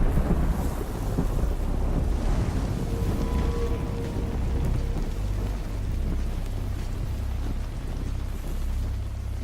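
Heavy game rain in The Last of Us Part 2 pours as a dense, steady wash with a deep rumbling low end, continuous and loud throughout, with no voices over it.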